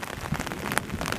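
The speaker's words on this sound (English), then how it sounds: "And it has poured the rain all day." Heavy rain pouring down all day, a dense steady hiss of drops striking surfaces, close and continuous with occasional louder splats.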